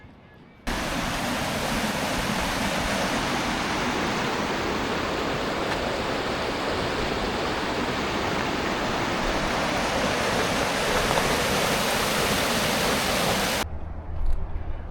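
Water from melted ice and snow rushes along a channel in a loud, steady, broad roar that starts abruptly and holds evenly before cutting off near the end.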